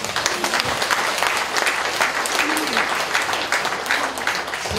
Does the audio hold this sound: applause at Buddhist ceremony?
yes